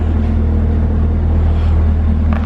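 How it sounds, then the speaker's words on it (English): A 2017 Chevrolet Camaro ZL1 sits on a dyno, its engine giving a loud, steady low rumble with a strong bass hum, close and continuous, with no talking. "so they're putting the car on the dyno now"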